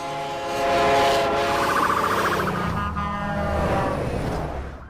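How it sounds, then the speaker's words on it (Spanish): A train passes with its horn sounding, the steady horn tone sliding lower in pitch as it goes by, loud and close over the low rumble of the cars, with no talking. "En el colegio siempre se pone el ejemplo de la sirena de una ambulancia o un tren para explicarlo."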